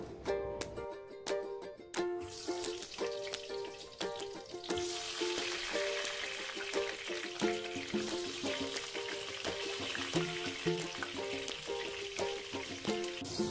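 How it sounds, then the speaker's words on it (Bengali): After a brief musical opening, a steady sizzling hiss of potatoes frying in hot mustard oil continues, with faint tonal music underneath. "তেল গরম হয়ে গেছে, এখন আমি আলুগুলো ভেজে নেব।"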